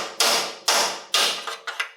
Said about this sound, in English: I'll test it with a chisel and a hammer to make absolutely certain that this metal is welded together